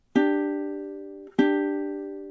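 Two plucked ukulele notes from a song's verse line, each struck cleanly and left ringing about a second, close and unaccompanied.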